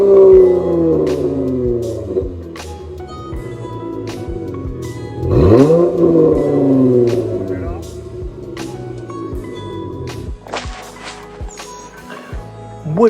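A Dodge Challenger's stock exhaust revs up and down in several rising and falling sweeps, loud and near, with sharp clicks and knocks in between.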